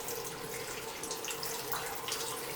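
Cold tap water runs steadily into a strainer as pumpkin seeds are rinsed in a kitchen sink, a soft continuous splashing hiss heard alone.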